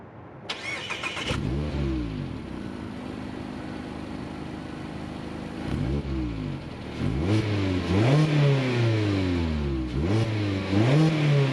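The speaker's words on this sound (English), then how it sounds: "The MX-5 has a push button start. Let's press the button and start it up." A 2021 Mazda MX-5 Miata with a 2-liter naturally aspirated four-cylinder fires up from its push-button start. The starter catches, the engine settles into idle, and then a series of sharp throttle blips rise and fall, loud and close.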